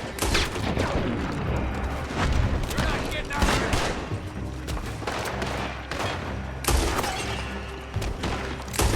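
Rapid gunfire in a Red Dead Redemption II shootout, dense bursts of shots and booms cracking close and loud throughout, with someone shouting over the battle.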